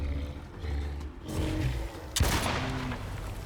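Gunfire in the video game Icarus, strafing a giant worm: dense bursts of shots over a rumbling, roaring background, with a sharp, loud crack about two-thirds through.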